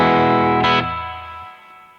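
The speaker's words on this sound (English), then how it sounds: "it still retains this really bright snappiness that is totally unique to this guitar" A 1970 Guild S-100 electric guitar played clean, no pedals, through a 1965 Fender Deluxe Reverb amp: a bright, snappy strummed chord rings out alone, a brief brighter accent, then the note decays over about two seconds.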